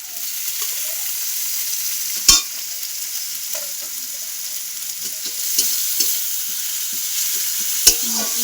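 Ginger garlic paste with chopped green chilli frying in a pan, a steady sizzle close up, punctuated by a few sharp spoon knocks and stirring scrapes.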